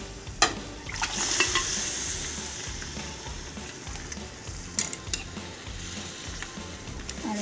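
Cooked chops being stirred in a sizzling pan over a medium flame, with soft continuous frying and occasional scrapes and clinks of a utensil against the pan, fairly quiet and close.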